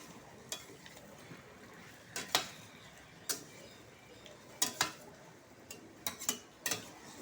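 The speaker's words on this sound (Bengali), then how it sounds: "একটু ভালো করে নেড়ে নেব।" A spoon stirs chicken kosa curry in a pot, giving sparse, quiet clinks and scrapes at irregular intervals over a faint background hiss.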